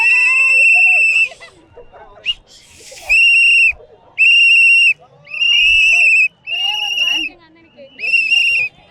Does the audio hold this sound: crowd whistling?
yes